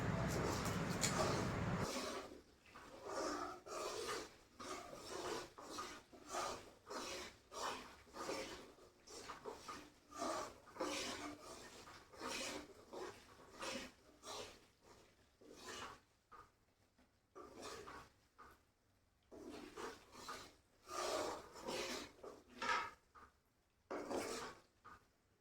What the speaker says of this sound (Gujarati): તો થોડીક વાર આપણે હલાવી.